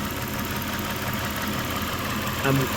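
A Toyota Tacoma 3.4 engine with a P0171 lean code idles with a steady, even hum that stays at a constant level throughout. Near its end there is a brief, slightly louder bump.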